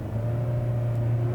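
A 2018 Hyundai Sonata Limited engine revving into its upper range, with a steady low drone and a faint grainy, rattly edge, heard from inside the car without voices.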